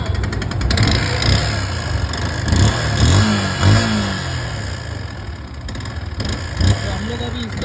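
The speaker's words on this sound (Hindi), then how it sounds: "इसके इंजन से बहुत ज़्यादा आवाज़ आ रहा था," A Yamaha R15 V2 motorcycle engine with a fault runs loud and steady, rattling and knocking harshly in a repair workshop, with short rev swells and a voice speaking over it.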